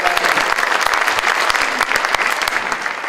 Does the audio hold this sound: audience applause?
yes